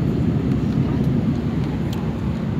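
Cabin noise inside an EasyJet Airbus A319/320 in flight, a loud, steady low engine and airflow roar filling the whole stretch without talking.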